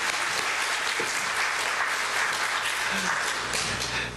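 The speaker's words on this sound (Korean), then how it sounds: "우리 선교팀 수고하셨는데 박수로 한번 격려해 주시죠." A church congregation applauds its returning mission team during a Sunday service, a steady broadband wash of clapping that runs evenly through the whole stretch without a break.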